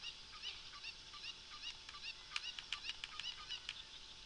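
A chicken in The Legend of Zelda: Ocarina of Time clucks and squawks in quick, scattered bursts, some wing flapping mixed in, fairly faint over a low background hum.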